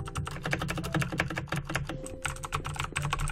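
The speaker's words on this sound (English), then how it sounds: "I got a new keyboard, and it's so clicky, and I love it" Rapid, crisp keystrokes on a clicky new computer keyboard, a dense run of sharp clacks at an uneven typing rhythm, close and clear with no talking.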